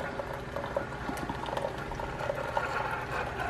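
A coffee machine pours coffee into a cup in a ski-trip lodge, making a steady hissing, bubbling liquid stream that runs throughout at moderate level with no talk.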